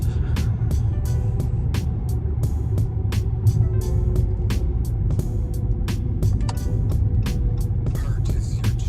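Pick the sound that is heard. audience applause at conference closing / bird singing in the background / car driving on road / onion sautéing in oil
car driving on road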